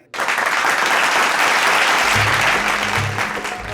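Live audience applauds loudly and steadily at an outdoor stage show before a local dance group's performance, a dense clapping wash with a low rumble joining partway through.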